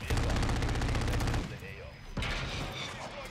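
Rapid automatic gunfire rattles in Call of Duty: Modern Warfare III as a VTOL is shot down, a dense fast stream of shots that breaks off, then resumes with another loud burst amid game effects.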